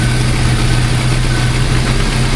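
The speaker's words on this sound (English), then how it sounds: "Here's the engine." A 1994 Jeep Wrangler 4x4 engine idles close by with a steady, loud, low rumble and no other sounds.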